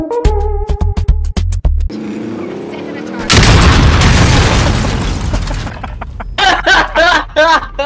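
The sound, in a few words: RPG explosion in a video game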